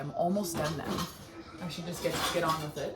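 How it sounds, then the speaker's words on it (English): Dishes being put away give off light clinks and clatter beneath a person speaking close by, with the talk covering most of the kitchen noise. "You might hear some dishes because I am putting them away right now."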